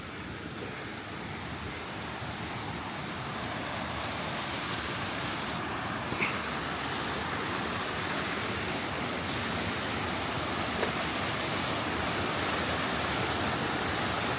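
River flowing along the Big Sucker Creek trail north of Duluth, Minnesota, a broad continuous rushing of water that stays steady and fairly loud, with no talking.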